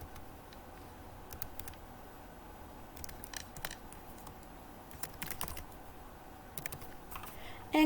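Keys clatter on a computer keyboard as a username and password are typed, a quiet, irregular patter of taps in bursts over low room noise.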